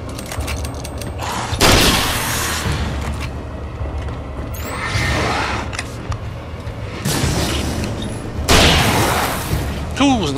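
Gunfire in the video game Alan Wake: several loud, booming shots or short volleys land a few seconds apart over a steady rumbling game background.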